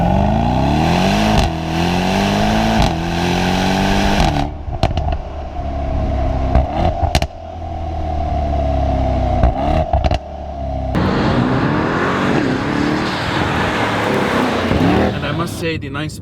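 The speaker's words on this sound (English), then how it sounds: "put it in race mode. Woo! 160 in just half of this run, guys. The power and the noise is fantastic." Mercedes-AMG E63 S from 2019/2020 with 9-speed MCT automatic, accelerating hard in race mode: a loud, continuous engine and exhaust roar rising through several upshifts, with brief gaps and crackles between gears and a voice talking over it.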